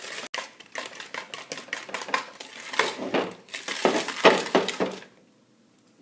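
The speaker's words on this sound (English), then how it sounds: "I'm just going to beat that in again" Cookie dough with vanilla extract is beaten in a bowl, giving rapid, irregular clattering and scraping knocks of utensil against bowl that grow denser and louder before stopping abruptly, leaving near silence at the end.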